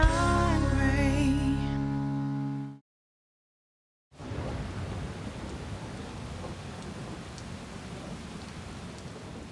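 Hurricane Harvey thunderstorm on the Texas coast, with a loud rumbling roar that cuts to silence, then steady, dense rain hissing evenly for several seconds.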